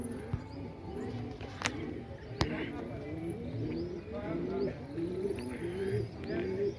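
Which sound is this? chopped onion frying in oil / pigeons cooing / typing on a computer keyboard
pigeons cooing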